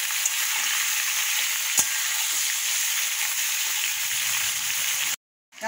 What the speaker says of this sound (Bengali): দেখো আলু পটলটা ভাজা ভাজা হয়ে গেছে